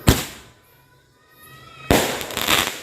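Fireworks in a Ramadan-night display of Roman candles, cones and cakes burst with a sharp bang, a quieter fizzing stretch with faint whistles, then a second loud burst of rapid crackling, fairly close.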